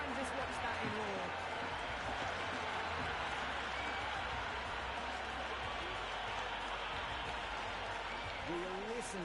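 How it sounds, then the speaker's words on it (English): Crowd cheering and applause fill a stadium after a huge six in the cricket video game Cricket 26, a dense, steady roar held for the whole stretch at moderate level. "Will you listen to that crowd? They are loving this."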